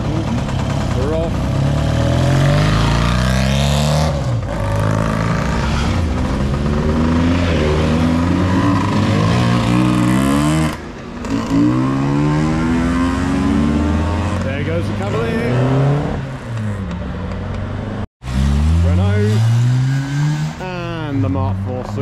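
Cars pull away from a car and bike night at the Bluebell Inn, engines revving and rising repeatedly in pitch as each one accelerates off, loud and close, with a brief gap and a few cuts between them.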